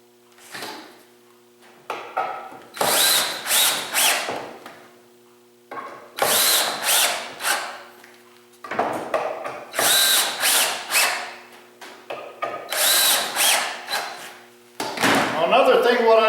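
A power drill drives screws into wooden saw horse legs near their ends, in repeated bursts of high whirring with pauses between, loud and close, along with some tool handling noise.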